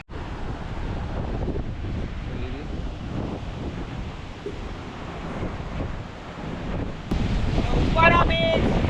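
Wind buffets the microphone over steady surf at Uppada beach near Kakinada, a broad continuous roar of waves and gusts, with a sharper rise in wind noise near the end.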